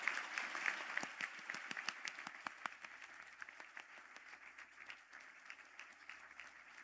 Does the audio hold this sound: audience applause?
yes